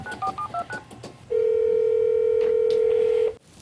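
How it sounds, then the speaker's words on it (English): A telephone is dialed, a few quick two-tone keypad beeps followed by a loud, steady tone lasting about two seconds that then cuts off. "Hang on a second, I'm going to phone Ray."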